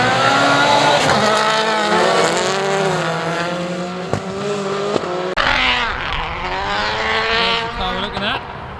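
Rallycross race cars roar past at a circuit, engines revving and shifting with rising and falling pitch, loud and continuous for several seconds, with a sharp change partway through as another car passes close.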